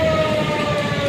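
A fire truck siren wails loud and close during a fraternity anniversary motorcade parade in Navotas, a sustained steady tone over rumbling street noise for the whole moment.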